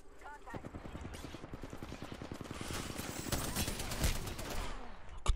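Rapid bursts of gunfire in the battle royale video game Apex Legends, dense repeated shots rattling steadily and building in loudness, with a player talking throughout.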